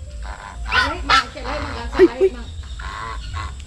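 Geese on a farm in Davao give a few nasal honks amid other fowl calls, close by, with people chatting over them.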